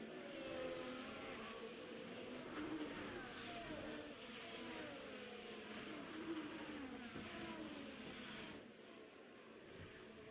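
Race cars at the Abu Dhabi race pass as a faint, distant engine drone with rising and falling whines, continuous throughout and softening near the end.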